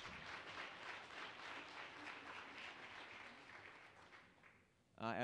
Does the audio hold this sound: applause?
yes